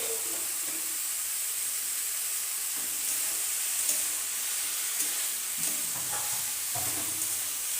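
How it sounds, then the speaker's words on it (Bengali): Chopped ridge gourd frying in a pan after tomato and ginger-garlic for a rohu fish curry, with a steady close sizzle and occasional stirring scrapes throughout, no talking. "এরপর দিয়ে দেবো কেটে রাখা ঝিঙে"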